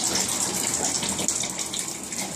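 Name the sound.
roof leak water running into a drain hose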